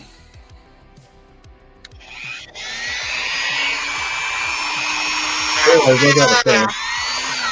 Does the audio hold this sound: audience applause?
no